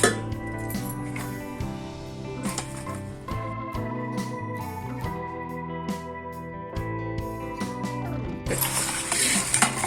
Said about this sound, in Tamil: இந்த பட்டன் இதை நம்ம அழுத்திண்டு இப்படி இதை தூக்குனா அந்த பாக்ஸ் நமக்கு வந்துடும்.